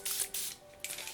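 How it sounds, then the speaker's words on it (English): Evian mineral water mist hisses from a pump sprayer aimed at a face in three quick, soft bursts close by. "take a little bit of this Evian mineral water mist and just spray over my"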